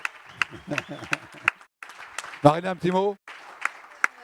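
Audience applause at a Monaco business conference, steady scattered claps from a hall full of people, briefly broken by a voice speaking into a microphone before the clapping resumes.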